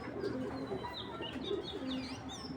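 Pigeons cooing softly and repeatedly, a pair of NRPFC club birds in a loft, low murmuring coos with faint chirps, steady ambient background.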